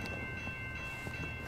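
A CN freight train rolls by at a distance, a faint, steady low rumble with a thin tonal whine and no voices.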